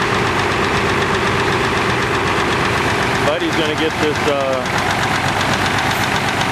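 A tractor engine idles steadily at close range with a knocking, vibrating drone, part of a lineup of old tractors including a Wheatland diesel at a tractor rally, while someone talks over it.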